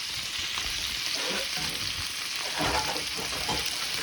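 Diced pancetta sizzles steadily in a hot pan while being stirred for a Bolognese during an Italian cooking competition, a close, continuous crackle with soft scraping bursts from the stirring and no talking.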